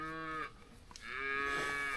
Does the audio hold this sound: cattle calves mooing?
yes